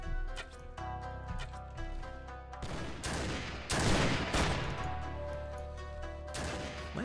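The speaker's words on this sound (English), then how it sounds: "Am I even firing at people?" Musket fire in a Mount and Blade Gekokujo mod battle: scattered shots and a heavier volley midway, over steady battle noise with a clatter of hooves, fairly close.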